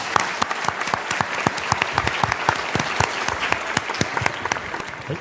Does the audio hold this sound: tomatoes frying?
no